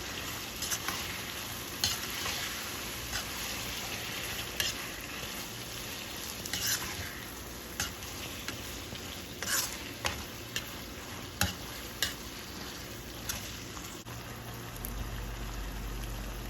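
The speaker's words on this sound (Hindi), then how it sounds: "थोड़ा सा नमक और इसे मैं मिक्स करूँगी" Chicken pasta sauce with tomato ketchup is stirred in a pan, a continuous close sizzle broken by scattered spoon taps and scrapes against the metal.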